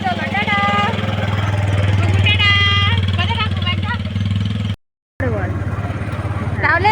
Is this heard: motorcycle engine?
yes